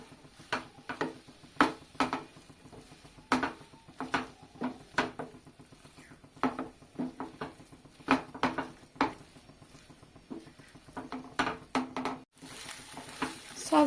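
A potato patty filling with coriander leaves being stirred and cooked in a pan, with repeated scraping and spatula taps over a soft sizzle, and a brief pause near the end.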